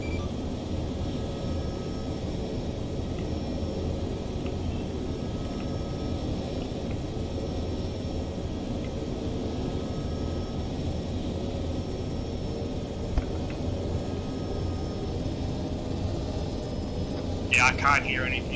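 Steady broadband engine drone of an aircraft in the Arma 3 military game, a constant loud rumble filling the whole stretch with a few brief higher clicks near the end.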